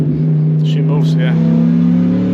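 A 2006 Dodge Ram SRT10 truck with its Viper engine pulls hard through the gears, a loud, steady engine drone rising in pitch from inside the cab, with faint popping and people talking underneath.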